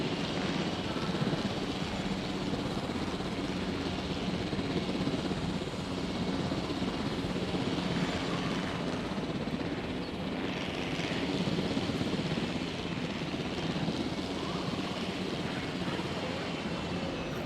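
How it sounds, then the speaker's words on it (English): ACU helicopter in the video game Jurassic World: Evolution, a continuous rotor and engine drone holding steady at moderate loudness with no talk over it. "I'm going to pre-position our ACU helicopter."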